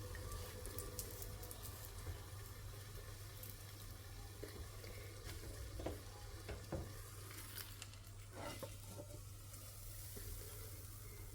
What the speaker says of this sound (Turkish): Ve biraz daha ocağımı açıp kızartmaya devam ediyorum.